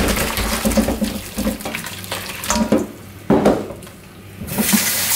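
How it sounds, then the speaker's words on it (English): Boiled chicken being strained in a kitchen sink, the cooking water pouring and splashing loudly and steadily, easing off briefly before a fresh rush of draining water. "We're gonna strain it first."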